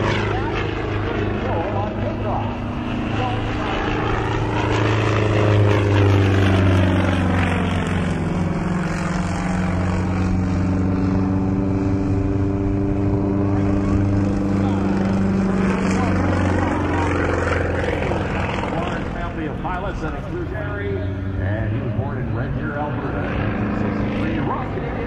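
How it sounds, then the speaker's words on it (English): A Russian Yak-18T touring propeller airplane flies aerobatics at an air show, its radial engine droning loud and close, rising and falling in pitch as it sweeps past, with an announcer talking over it. "a touring airplane from Russia."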